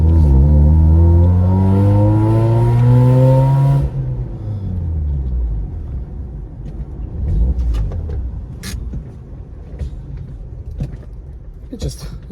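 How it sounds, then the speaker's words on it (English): A Mazda RX-8 with an idling fault revs high and loud, then the engine dies down abruptly partway through, leaving quieter rumbling and clicks with someone talking. "It just stalled out on me again."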